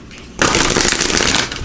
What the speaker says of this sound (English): we'll give these a good shuffle